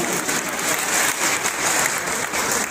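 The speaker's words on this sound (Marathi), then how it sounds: "त्यांच्यासाठी जोरदार टाळ्या झाल्या पाहिजे" Loud, dense applause from an audience honoring trainees at a disability-care institution event in Kopargaon, sustained and steady throughout with no pauses.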